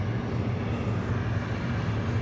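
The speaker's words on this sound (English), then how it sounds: "Got a Southwest over here with a special livery" A Southwest Airlines airliner at Hartsfield-Jackson International Airport in Atlanta gives a steady, broad engine roar, distant and unbroken throughout.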